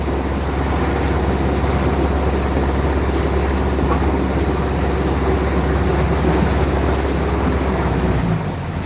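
A sailing boat's engine runs at sea on a rainy day, a loud, steady, low droning hum that holds constant throughout and eases slightly at the very end.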